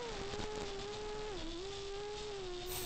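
Motors on a 6-inch FPV drone whine in a steady high tone while it turns, pitch dipping briefly then climbing again under the throttle, heard faintly over wind noise.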